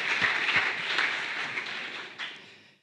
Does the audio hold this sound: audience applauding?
yes